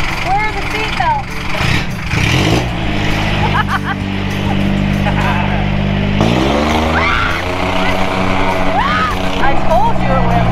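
A diesel-engined golf cart driving fast, its steady low engine drone and harmonic hum running throughout with a shift in pitch midway, while people talk and exclaim over it.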